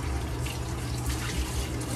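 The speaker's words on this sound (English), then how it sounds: "Now I'm gonna just fill this up with hot, clean water, no soap" Hot, clean water without soap running from a tap into a container used for rinsing cloth face masks and a makeup eraser, a steady close hiss and splash with no talk.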